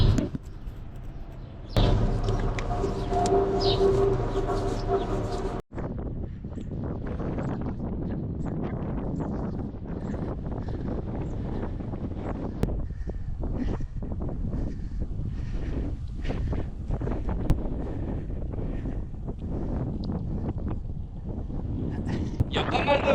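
Gusty wind buffets the microphone in a continuous low rumble with irregular thumps, steady throughout; a person talks under the noise.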